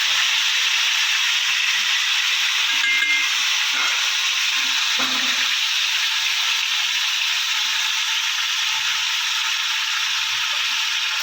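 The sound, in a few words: marinated chicken frying in a pan for biryani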